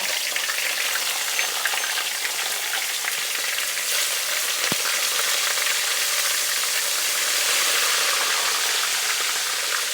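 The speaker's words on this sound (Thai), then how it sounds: "แล้วก็ทอดอันที่เหลือค่ะ" Fish-sauce chicken wings deep frying in a pan of oil, a dense, loud, continuous crackling sizzle that holds steady throughout with no voices over it.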